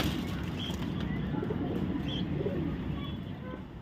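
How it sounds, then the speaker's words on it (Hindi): Many pigeons coo and flutter while pecking at grain, a soft continuous murmur of low coos with occasional faint chirps, steady throughout and slightly fading at the end. "कितने सारे कबूतर आए हैं और अच्छे से दाना चुग रहे हैं"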